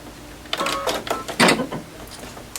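A sewing machine runs a short line of small stitches at a stitch length of 1.4 on a curved cabin quilt block, heard as a couple of quick, close mechanical bursts with a brief pause between them.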